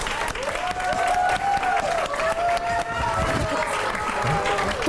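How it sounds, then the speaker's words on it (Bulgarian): Studio audience applauding during a Bulgarian TV game show after a shirt has been ironed, dense clapping that carries on throughout, with voices talking and music playing over it. "Моля вашите аплодисменти за изгладената риза на Радост."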